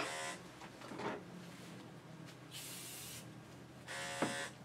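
An electric pet grooming clipper with a ceramic blade, used on a Yorkie, buzzes at close range in short bursts. Quieter handling noise fills the pauses between the bursts.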